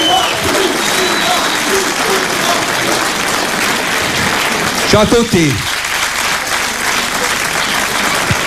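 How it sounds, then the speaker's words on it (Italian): An audience applauds continuously and loudly as an Italian rock band walks on stage, the clapping dense and steady throughout while someone speaks briefly over it. "venite un po' più avanti così l'applauso lo prendete voi innanzitutto"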